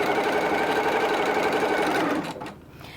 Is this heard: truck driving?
no